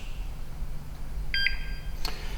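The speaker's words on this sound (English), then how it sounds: "There's our low air alarms, or our low alarms. There's our high alarms." Gas monitor alarm sounding two short electronic beeps, one after another, fairly clear over a low background hum.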